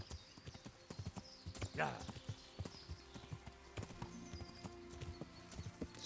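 Horse hooves clip-clopping steadily while riding cross country in the video game Kingdom Come: Deliverance, close and rhythmic, with a brief whinny and someone talking over it.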